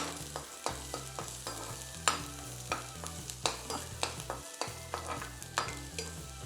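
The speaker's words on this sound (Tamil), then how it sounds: "லைட்டாக கிறிஸ்பி ஆகிற வரைக்கும் இதை நல்லா ஃப்ரை பண்ணிக்கலாம்" Garlic frying in ghee until crispy, a quiet steady sizzle with regular spatula taps and stirring strokes in a loose repeating rhythm, close but soft, no talking.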